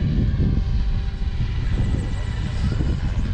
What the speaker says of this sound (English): the gear noise is just... Oh my God, it is so much quieter now.